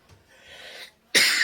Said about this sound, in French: suis désolée de tousser